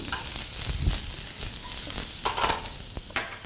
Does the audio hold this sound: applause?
no